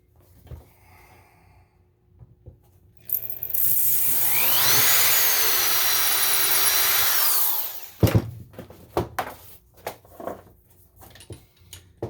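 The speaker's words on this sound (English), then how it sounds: "So the final drill." A power drill whines steadily for several seconds as it bores a hole through a harmonica slider, then stops, followed by scattered clicks and handling knocks.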